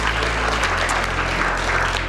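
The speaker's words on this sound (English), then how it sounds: "Big, big round of applause for all our sponsors." Gala audience applauding sponsors at an evening leadership celebration, a steady, dense wash of clapping that fills the whole stretch at constant loudness with a low hum beneath.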